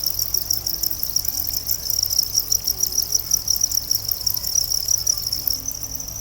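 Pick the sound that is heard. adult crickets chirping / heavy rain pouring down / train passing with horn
adult crickets chirping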